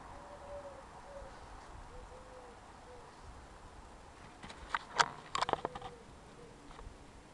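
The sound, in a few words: bird cooing in a garden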